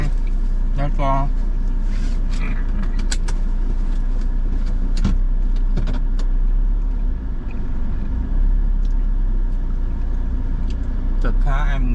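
A Perodua Myvi family car drives around Kuching, Sarawak, with a constant low engine and road rumble, scattered interior clicks and knocks, and a person talking over the drone.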